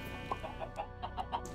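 Minecraft chickens clucking in a farm pen, a quick run of about eight short clucks at an even pace, close and clear over a steady background hum with no talking.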